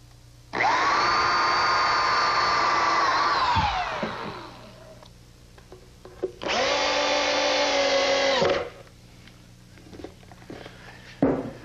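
A power drill drives drywall screws into a sawhorse gusset in a woodworking shop, two loud sustained whirring runs, the first slowing down as it ends, with a few clicks and knocks between them.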